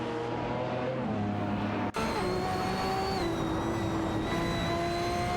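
Racing-game engines of a Lamborghini Sesto Elemento and a Ferrari P45, a steady droning whine that shifts pitch with a brief dropout midway, heard continuously and fairly quietly, no voices.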